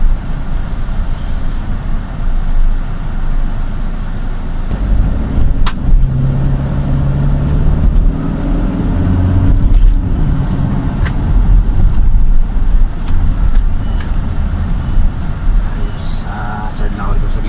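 A car driving along the Skyway toward NAIA Terminal 2 in light traffic, a steady loud road and engine rumble with tyre noise continuing throughout, people speaking over it.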